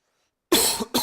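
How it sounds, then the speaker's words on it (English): A single short cough bursts out of silence, followed almost immediately by a second cough, both close and fairly loud. "Coughing."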